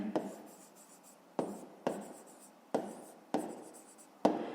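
Handwriting on paper while working a fifth-grade math exercise, a series of soft scratchy pen strokes in separate bursts of about a second each, close and quiet, with no talking.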